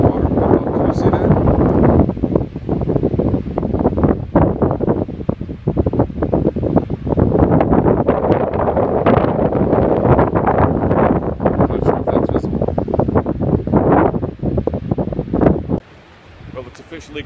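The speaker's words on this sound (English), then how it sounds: "Officially got cold and windy now" Strong, steady wind at Morro Strand State Beach near Morro Rock buffets the microphone with a constant roar and rumble, loud and close, easing off abruptly at the very end.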